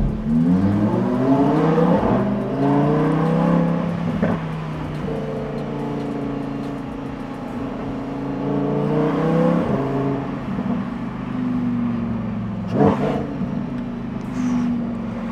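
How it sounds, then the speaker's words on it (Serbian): A Lamborghini Huracan with an engine of over 600 horsepower revs loudly and close, pitch climbing and falling through several strong sweeps, with a sharp blip near the end and a constant rumble throughout. "Auto se čuje nenormalno bolesno."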